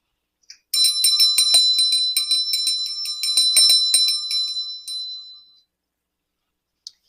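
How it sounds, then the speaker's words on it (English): A small bell rung repeatedly at a tarot table setup, bright metallic dings sounding close and clear for about five seconds, then fading, with one faint extra tap near the end. "I'm going to ring a bell."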